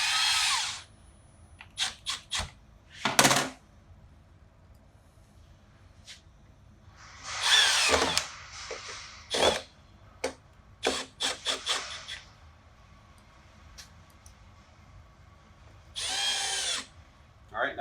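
A power drill drives screws into an exterior gang box in a series of loud, close whirring bursts of a second or two each, separated by quiet pauses with some handling noise.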